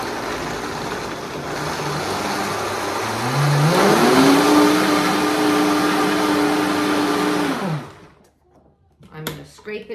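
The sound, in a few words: blender blending vegan cheddar cheese sauce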